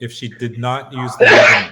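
A person sneezes once, a loud, sudden burst right after someone finishes speaking, closing out the conversation.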